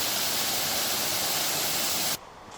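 Steady broadband rush of water flowing at a small side section of a waterfall on a camping trail, dense and continuous, then cutting abruptly to a much quieter background near the end.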